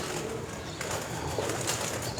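Breeder pigeons coo on a Multan rooftop, low rolling calls and faint rustling close by, with a brief flutter of wings.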